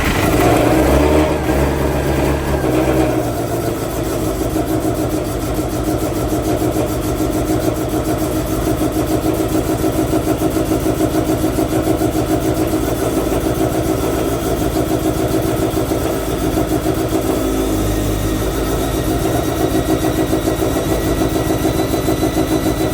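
A Subaru WRX engine cranks and catches, then settles into a loud, steady idle that runs on continuously for over twenty seconds, with no voices.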